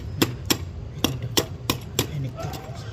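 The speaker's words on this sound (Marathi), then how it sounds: "खालचंच थोडं एकदा हातोड्याने मारा एकदा" Six sharp metallic hammer blows at an uneven pace, close and loud, over low background rumble.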